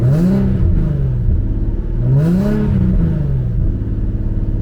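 A 2007 Nissan 350Z Z33 Fairlady Nismo Autech engine is revved twice while stationary. Each blip rises and falls smoothly over a loud, steady idle, with no talking.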